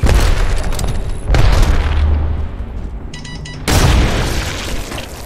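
A grenade blows up in a competitive video game match, a loud, close, rumbling boom that rolls on for a couple of seconds and is followed by a second heavy blast near the end.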